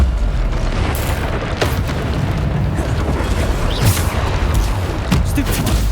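Repeated spell explosions from Bombarda casts in Hogwarts Legacy, a dense run of deep booms and blasts layered with combat noise, while a voice calls out over the action.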